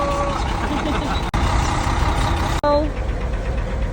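A truck's engine heard from inside the cab, a loud steady low rumble with tonal hum, twice briefly cut, under a voice talking.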